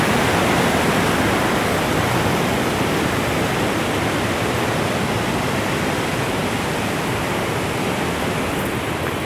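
Cachoeira da Chave waterfall in Votorantim, a dense, steady roar of falling water filling the air without pause, loud and close, no voices.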